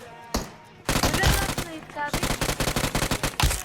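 Automatic gunfire in PUBG Mobile: a single sharp shot, then loud, rapid bursts of machine-gun fire close up with a quick, stuttering rhythm.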